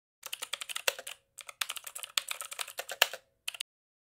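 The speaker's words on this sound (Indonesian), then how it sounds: "Ketikkan perintah berikut." Quick, light clicking on a computer keyboard as a command is entered in a Zorin OS 16 terminal, in short rhythmic bursts with brief pauses, close and clear in a quiet room.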